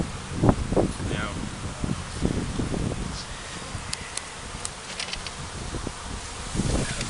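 Honey bees left over from a nuc box are knocked into a 10-frame hive body, a faint airy buzz under rustling and handling bumps outdoors, with a few soft thuds early on.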